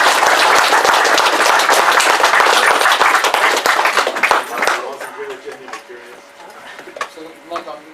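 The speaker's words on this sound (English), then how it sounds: "So, round of applause for them." An audience claps loudly and densely at a conference panel session for several seconds, then the applause thins and fades into quieter room noise with a few scattered claps.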